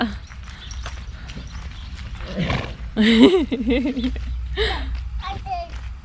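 A horse whinnies and snorts nearby, a high wavering neigh rising over background chatter and people talking.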